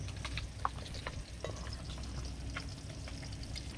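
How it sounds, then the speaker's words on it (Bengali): Silver carp pieces fry crisp in a pan, giving a continuous dense sizzle with a few small pops and clicks, steady and close, no voices. "এই দেখুন একদম পুরো মুচমুচে করে ভেজে নিয়েছি"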